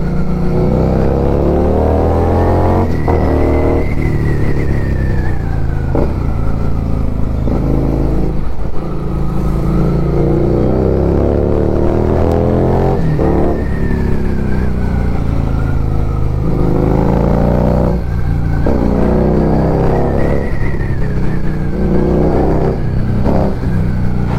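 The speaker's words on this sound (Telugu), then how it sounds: "Oh man, this has some serious exhaust note" A Harley-Davidson Street 750 motorcycle roars loud and close while riding, its engine and exhaust rising in repeated revving sweeps with brief dips at each gear change, continuous throughout.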